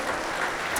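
A church congregation applauding during a worship service, a steady wash of clapping that stays even throughout a brief moment with no voices above it.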